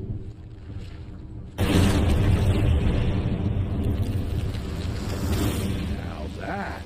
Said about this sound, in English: Now that is how you shape an explosion.